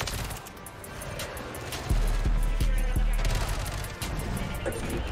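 The FJX Horus gun in MW3 fires in rapid bursts of close, loud shots, with a sharp cluster of rounds in the middle and another burst near the end.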